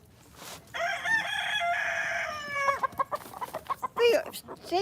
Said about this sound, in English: Stephen, did your chickens feel like that?